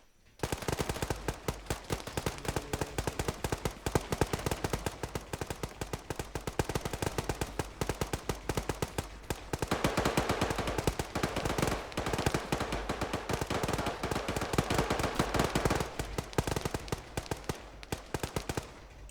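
Sustained automatic gunfire rattles through a tactical military shooter set in a Colombia campaign with an ambushed squad, rapid continuous bursts from multiple weapons with no letup, fairly loud throughout.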